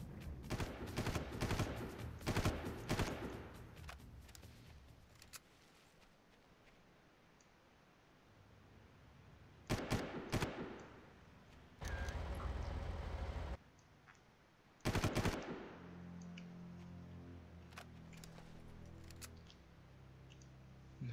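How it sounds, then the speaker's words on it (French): Gunfire from the Far Cry video game, with dense bursts of rapid shots in the first few seconds, then quieter stretches broken by isolated loud bursts and short sustained noisy blasts, all without talk. "Mais non, mais je te tire dessus, mec."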